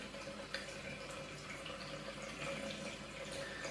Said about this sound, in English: get your blade and get it as hot as you can by putting it under the hot water